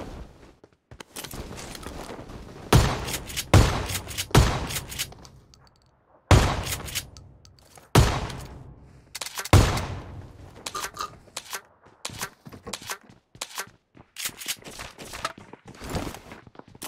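Shotguns fire in a battle royale video game, with loud, sharp blasts spaced irregularly through the clip, some in quick pairs, over quieter clatter and movement noise.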